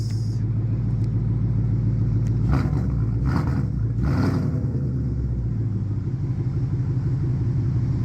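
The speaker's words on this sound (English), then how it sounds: "So it's got aftermarket exhaust, aftermarket intake." A 2012 Ford Mustang Boss 302 with a Flowmaster aftermarket exhaust and aftermarket intake idles with a deep, loud rumble close by, punctuated by three sharp throttle blips in quick succession midway.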